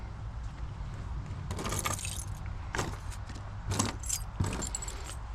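A bunch of keys jangles in bursts during a Polaris Slingshot ride, with several sharp metallic shakes over steady engine and road rumble, close to the listener and with no one talking.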